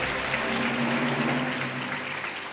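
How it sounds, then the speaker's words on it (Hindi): A studio audience on the Indian TV quiz show Kaun Banega Crorepati applauds a correct answer with continuous, even clapping, a faint tonal hum beneath it and no talking. "पहले ही जनता ने ताली बजा दी"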